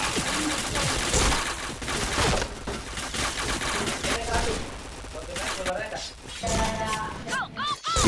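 Rapid gunfire from the online shooter game Point Blank, dense bursts of automatic shots and single cracks in quick succession, with players talking over the action.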